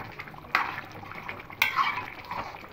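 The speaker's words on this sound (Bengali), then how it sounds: "একটু খুব ভালো করে এভাবে নাড়িয়ে নেবো" A spoon stirring dalia khichdi in a pot, two sharp scrapes and clinks against the metal followed by soft mushy stirring, close and unhurried.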